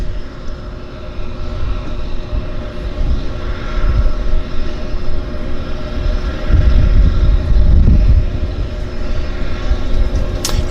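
A seaplane sets down in Vancouver's downtown harbour, its engine a steady low drone that swells slightly midway as it touches the water, with a continuous broadband rumble and no talk.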